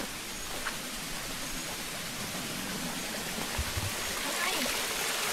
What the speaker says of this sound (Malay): Wah, ada sumber air.